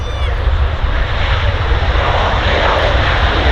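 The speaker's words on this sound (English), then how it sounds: "that loud noise there you can hear is the reverse thrusters operating" A Ryanair jet arriving from Katowice roars with reverse thrust on landing at Manchester Airport, a loud, steady, broadband rumble held close and continuous throughout.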